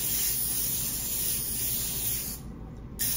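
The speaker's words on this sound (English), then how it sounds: "All we need to do is spray this down with pan so the patties won't stick" A continuous aerosol cooking spray hisses onto a foil tray for about two seconds, pauses briefly, then resumes; close and fairly loud, with no talking.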